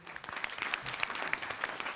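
An audience claps at a Malayalam mimicry comedy show, a dense, steady round of applause at moderate distance, fairly faint, with no voices standing out.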